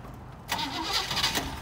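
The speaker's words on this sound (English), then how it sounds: "we're gonna get this Corvette started for you." A 1963 Chevrolet Corvette split-window coupe with a high-performance 327 cubic inch V8 cranks briefly and catches, settling into a smooth, close engine rumble after a quiet start, with no talking.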